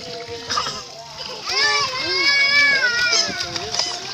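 Water splashes in a swimming area as children play, with excited high-pitched kids' shouts and squeals running loudly over the splashing throughout.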